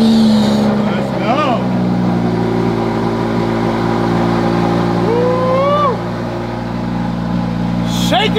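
Lamborghini sports car engine idling with a steady deep drone and low hum, close and loud, while people talk over it and a voice rises in pitch briefly.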